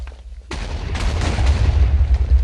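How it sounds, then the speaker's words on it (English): A bomb from the More Explosives mod in Minecraft 1.4.7 detonates in a sudden loud blast after a quiet moment, followed by a sustained, rumbling roar of debris. "This will just explode on impact."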